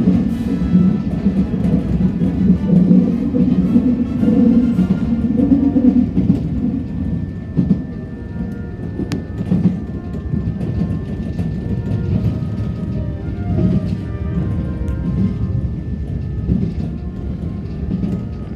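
Nankai Koya Line train passing through Abikomae station in Osaka, heard from on board as a steady, close low rumble of wheels and running gear that continues without a break.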